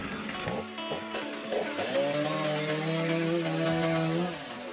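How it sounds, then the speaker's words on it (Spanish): A chainsaw engine drones and revs up steadily, its pitch climbing as it cuts into pine branches, loud and close. "Para ello utilicé una motosierra"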